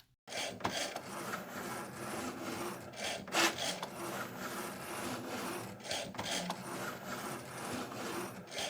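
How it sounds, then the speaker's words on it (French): A Cricut machine cutting stickers gives a continuous close scratching, rasping drone with periodic louder sweeps as the blade carriage moves, with no voices. "Vous pouvez maintenant lancer votre découpe."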